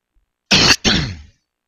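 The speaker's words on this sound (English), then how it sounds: "Excuse me for the coughing." Someone coughs twice in quick succession, close and loud, a short harsh burst then a longer rasping one trailing off, surrounded by silence.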